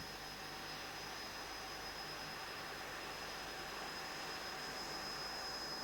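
Light aircraft engine idling through a steep practice dead-engine landing approach, a steady, even drone with a faint high whine running unbroken and fairly distant throughout.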